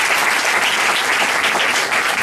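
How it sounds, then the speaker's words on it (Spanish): Dense, steady applause from a large audience honoring the teachers and technicians of El Seibo at a symposium, a continuous loud wash of clapping with no break. "yo le pido un aplauso grandísimo para los maestros y maestras del Seibo que me andan acompañando hoy"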